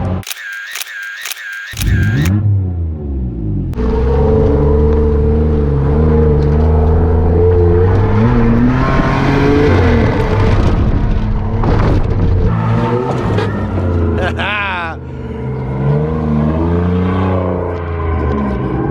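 A 2020 Kia Telluride's engine drones steadily and loudly from inside the cabin at the SEMA Show, the pitch rising and falling as it drives on, with a burst of rapid camera shutter clicks at the start.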